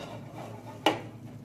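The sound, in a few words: flipping a thin pancake in a pan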